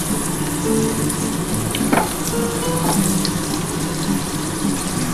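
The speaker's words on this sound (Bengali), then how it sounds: "আমার তেলটা কিন্তু গরম হয়ে গেছে আমি আলুটা ভেজে নিলাম" Potatoes fry in hot oil with a continuous, fairly loud bubbling sizzle. A couple of brief clinks and stirring sounds rise above it, and no one speaks.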